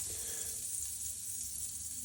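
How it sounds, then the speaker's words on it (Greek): Pork chop frying in butter in a small pan, giving a steady, loud hiss and crackle that runs unbroken from start to finish with no talking. "μόλις ζεσταθεί το τηγανάκι με το βούτυρο, πετάμε πάνω την μπριζόλα"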